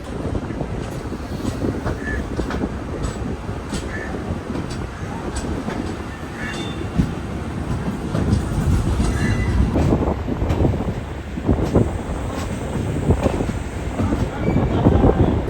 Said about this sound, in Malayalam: ട്രെയിൻ ഇങ്ങനെ വളഞ്ഞ് പോവുകയാണ്.